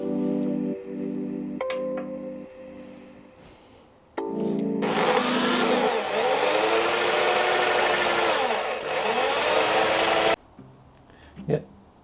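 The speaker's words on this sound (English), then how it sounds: "so I got the hole drilled" A power drill bores a hole for the exhaust pipe of a custom engine being fitted to a Mira. After someone speaks, a loud, steady whirring grind runs for about six seconds, its pitch wavering, then cuts off abruptly.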